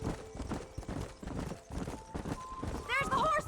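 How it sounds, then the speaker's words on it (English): Hooves clip-clop in a quick, uneven rhythm as horses gallop close by in the video game Red Dead Redemption, with a horse whinnying near the end. "There's the horses!"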